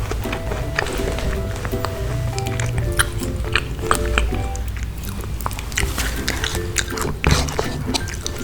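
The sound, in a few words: biting and chewing rose apple fruit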